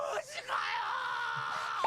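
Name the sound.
screaming from One Piece anime episode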